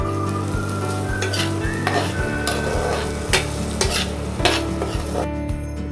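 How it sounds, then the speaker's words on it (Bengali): Chopped onions and ginger fry in butter in a wok while a spatula stirs them, a constant crackling sizzle broken by regular scraping strokes against the metal, close and fairly loud. "মাখন দিয়ে এটাকে ভালো করে নাড়াচাড়া করে একটু নুন দিয়ে দেবেন"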